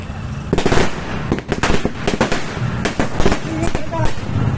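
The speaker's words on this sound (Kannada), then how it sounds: "ಪಟಾಕಿಯ" Firecrackers burst at a political campaign gathering, loud rapid crackles and bangs close by in quick clusters, with voices in the background.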